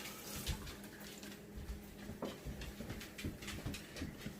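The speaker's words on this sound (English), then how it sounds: "I gotta wash my hands" A kitchen tap runs while hands are washed beneath it, a steady splashing stream with uneven spattering bursts, fairly close and alone.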